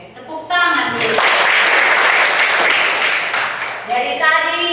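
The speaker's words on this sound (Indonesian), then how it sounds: "Oke, tepuk tangan dulu." A class of students clapping their hands on a teacher's cue, a steady burst of applause lasting a few seconds, with a voice talking before it starts and again as it fades.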